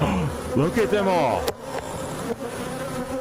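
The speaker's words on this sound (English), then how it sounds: "That is a shitload of bees, man." Swarm of bees buzzing up in a tree, a dense continuous drone throughout, close and steady, with a person speaking briefly over it.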